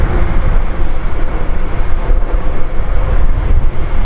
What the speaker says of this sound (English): The noise levels of these big airliners have been reduced over the years